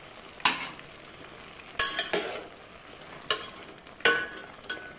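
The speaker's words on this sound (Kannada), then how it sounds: "ಈಗ ನೆನೆಸಿಟ್ಕೊಂಡಿದ್ನಲ್ಲ ಹುಣಸೆ ಹಣ್ಣನ್ನು ಇದಕ್ಕೆ ಹಾಕ್ತೀನಿ" Soaked tamarind goes into a pan of cooking colocasia leaves, giving several short bursts of sizzling and stirring clatter spaced through the clip, close and moderately loud, with a faint steady hiss between them.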